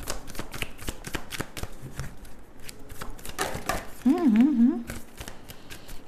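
Tarot cards riffle and slap in rapid close shuffling, a quick run of crisp flicks, while a person talks briefly and a short tonal sound rises near the end.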